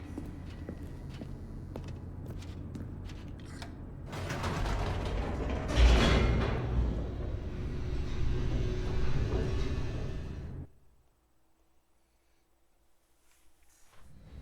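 An elevator in The Stanley Parable descends with a steady mechanical rumble and creaking, ratcheting gears; the noise swells loud midway, then cuts off abruptly into near silence.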